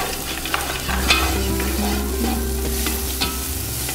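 Cashews and raisins fry and sizzle in a single cooking pot for Afghan rice pilaf, a steady close sizzle with scraping stirs throughout and no talking.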